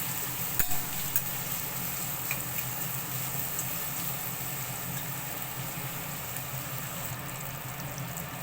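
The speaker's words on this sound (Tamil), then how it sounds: "கொஞ்சம் நல்லா ஃப்ரை பண்ணிக்கலாம்." Chopped onions and two green chillies fry steadily in a pan for vegetarian fried rice, giving a continuous moderate sizzle with occasional clicks of stirring and no talking.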